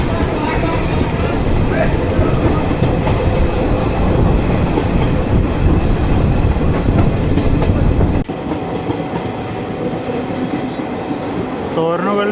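A passenger train of ICF coaches runs at high speed, up to about 100 km/h, on a special service from Mysuru to Hubballi. The loud, close rumble and rhythmic clickety-clack of the wheels are heard from onboard, then abruptly drop lower partway through.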